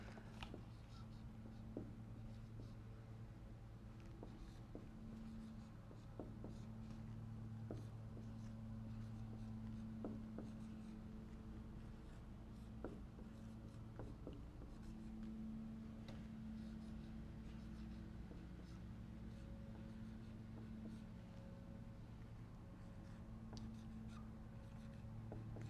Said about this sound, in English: Look at these words I'm going to write